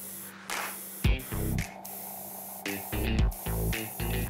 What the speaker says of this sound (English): here is my paint color that I'm going to airbrush on